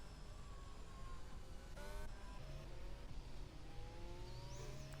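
Onboard engine of a safety car in a racing sim game, a steady mid-distance hum of the motor with gentle rises in pitch as it accelerates and shifts, faint and continuous with no talk.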